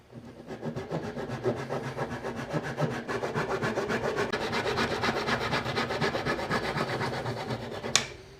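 A handsaw cuts off excess wood from a rustic wooden shelf bracket with quick, even back-and-forth rasping strokes, close and steady, ending with a sharp snap as the piece comes free.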